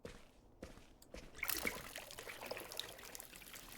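Water trickles and pours steadily onto plants in a video game apartment setting, a soft continuous dribbling stream that swells after a quiet start and keeps flowing, heard alone without voices.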